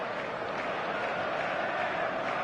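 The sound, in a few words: stadium crowd buzz in eFootball video game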